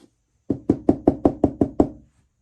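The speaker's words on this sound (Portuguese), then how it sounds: "começou a bater na porta de um outro bicho" Knocking on a wooden door, told as part of a forest folk tale: seven evenly spaced, firm raps in a quick steady rhythm, close and clear with nothing else heard.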